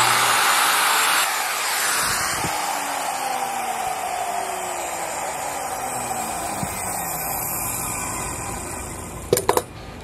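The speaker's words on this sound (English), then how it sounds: "get a router and route a groove all the way down, 1/4 inch thick" A handheld wood router runs continuously, cutting a 1/4-inch-deep groove along a wooden board for a wine-cork board, a steady loud high-pitched whine with a brief clatter near the end.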